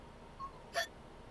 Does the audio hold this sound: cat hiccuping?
yes